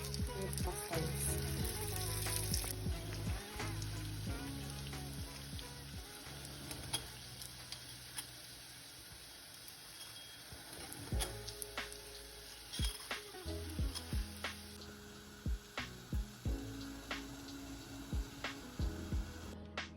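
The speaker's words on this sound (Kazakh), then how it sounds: "біз пончиктарды пісіріп алдық" Doughnuts of yeast dough frying in hot oil in a home kitchen, a steady close sizzle with occasional stirring clicks and faint pops running throughout, no voices.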